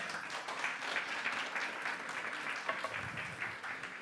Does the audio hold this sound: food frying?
no